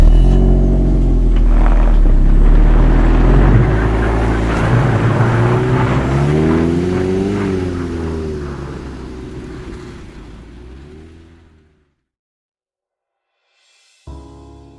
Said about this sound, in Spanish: la investigadora enciende el coche y termina por retirarse